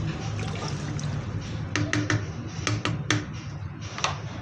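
A spoon stirs whole spices and cumin into water in a cooking pot for masala rice, giving a short run of light metallic clinks and taps over a steady, hissy background.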